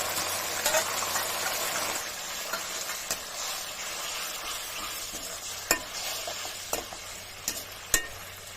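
Chilli paneer sauce mixture stirred in a pan, a dense continuous sizzle with a few sharp clicks of the spatula near the end, close and steady with no talk.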